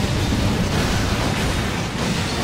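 A loud, sustained explosion blast in the video game Resident Evil 6, a dense roaring rumble that stays steady for the whole stretch, with no voices over it.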